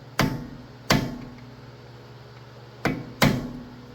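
Four sharp metallic hammer strikes, staking a dimple into the axle nut of a 2016–2021 2.0 Honda Civic driver-side axle, come in two quick pairs, close and loud over a steady low fan hum.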